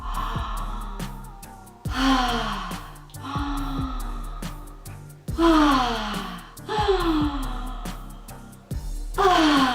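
Slow, continuous breathing exercise: close, audible inhales and exhales flow into each other in steady cycles of roughly two seconds, with soft tonal sounds in the background.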